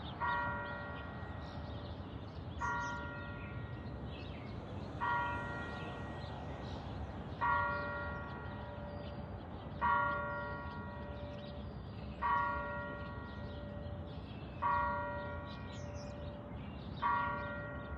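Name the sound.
church tower bell ringing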